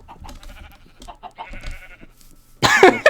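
A loud, close Minecraft sheep bleat bursts out at the end, after a stretch of quieter clicks and soft game tones.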